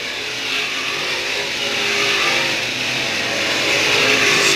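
Race cars on a track roar past in a dense, continuous engine drone that swells gradually louder, with no voices over it.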